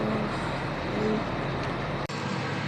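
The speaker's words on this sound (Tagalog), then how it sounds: "dahil maingay po itong machine na to or itong sasakyan" A noisy vehicle engine runs close by with a steady, loud broadband rumble that cuts out for a split second near the end before resuming.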